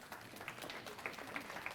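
Audience applause after a provost's talk on academic success: a brief, faint patter of scattered clapping from a room of listeners, heard from a distance.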